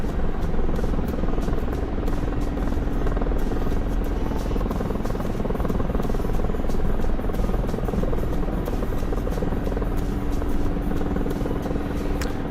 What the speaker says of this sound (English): MI8s and MI24s, they're actually made to take off and land on runways